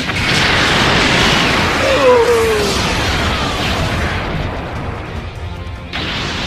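A loud, sustained roaring blast with sweeping whooshing streaks, Piccolo's Special Beam Cannon energy beam firing and exploding in the game Dragon Ball Legends, fading slightly before a final surge.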